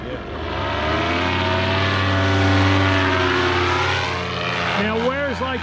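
A small engine on a flying craft drones steadily and loudly nearby, its pitch wavering and sweeping as it passes, with people talking over it.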